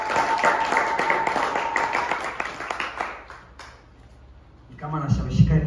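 An audience at a Swahili church panel discussion claps in a steady patter of many hands, fairly close and moderately loud, fading out after a few seconds before a voice speaks.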